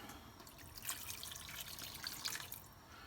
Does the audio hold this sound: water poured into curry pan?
yes